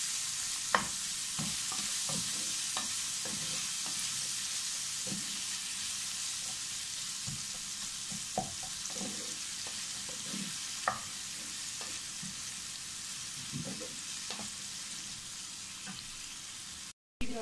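Sliced onions fry in a pan for sweet potato rava, a steady close sizzle broken by intermittent scraping and clinks of a spatula stirring.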